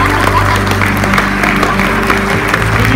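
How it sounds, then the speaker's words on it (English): A church congregation applauds loudly at the close of a service, with clapping continuing over a low, sustained musical drone. "let's give these guys a round of applause"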